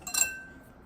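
A whisk clinks against a bowl while mixing hardtack dough of flour, salt and water, a single bright metallic chink that rings briefly and fades, close and quiet.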